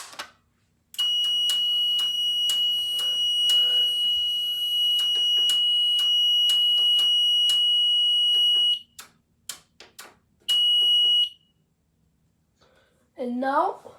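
Brand new fire alarm panel sounding after a pull station is activated: a loud steady high-pitched electronic tone with rhythmic pulses, cutting off, then briefly resuming, with someone talking nearby.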